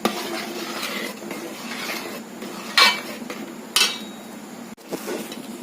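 Flattened rice and coconut halwa with sesame stirred in a pan, a thick scraping stir with two sharp metallic spoon knocks on the pan rim, close and without speech.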